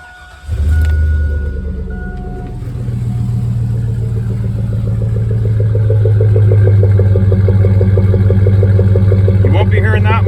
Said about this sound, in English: here's the last startup as a cherry bomb